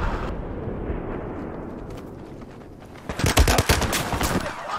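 Light machine gun fire in Battlefield 4, at first a muffled low rumble and then a loud, rapid burst of close automatic shots with sharp repeated cracks in the final seconds.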